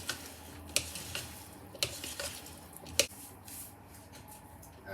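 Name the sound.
stirring and mixing potato salad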